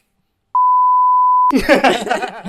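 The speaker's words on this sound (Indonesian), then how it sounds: "tolong di beep ya tadi" A loud, steady pure-tone censor beep runs for about a second, then cuts off abruptly. Speech follows at once.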